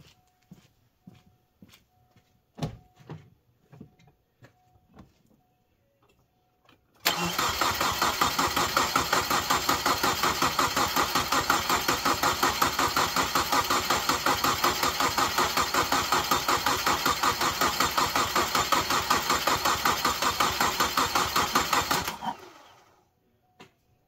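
A 2001 Subaru Forester engine cranks without starting, a long, steady, rapid chugging of the starter that runs about fifteen seconds before cutting off, preceded by faint clicks and handling noises.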